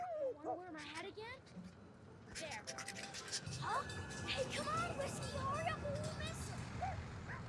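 Dog barks, yips and whimpers from the video game Heart of Darkness, a string of short calls with a voice talking over the steady game background.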